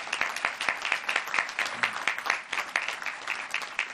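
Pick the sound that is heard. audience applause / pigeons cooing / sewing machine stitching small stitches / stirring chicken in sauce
audience applause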